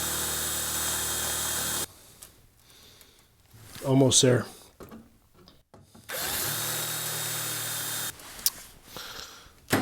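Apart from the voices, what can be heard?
drilling out a frozen screw head on a Bronco dash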